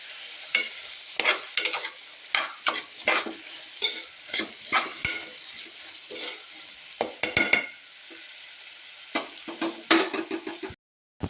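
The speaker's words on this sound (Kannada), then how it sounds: "ಹಾಗೆ ಇವಾಗ ಒಂದು ಸ್ವಲ್ಪ ಇದನ್ನು ಹಾಕ್ತಾಯಿದ್ದೀನಿ, ಜೀರಿಗೆನ. ಚೆನ್ನಾಗಿ ರೋಸ್ಟ್ ಆಗಬೇಕದು." Cumin seeds roasting in a pan for uppittu, the sizzle broken by a steady series of sharp stirring scrapes and clinks of a spoon against the pan, close and alone.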